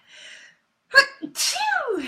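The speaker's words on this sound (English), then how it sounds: "I feel like I'm going to sneeze." A single loud sneeze with a sharp burst after a faint breathy intake, followed by a brief exhale and a sighing voiced release.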